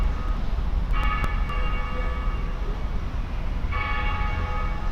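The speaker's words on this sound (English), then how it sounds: "You might be able to hear the chimes of the church bells behind the" Church bells ring out twice at a distance during an outdoor cricket match, each strike a sustained tonal chime, over a steady low rumble of background noise.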